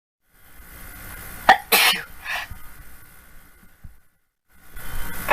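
A cartoon character's sneeze: a short sharp intake, then one loud breathy burst with a softer trailing puff, followed by faint background noise and a brief closing rustle.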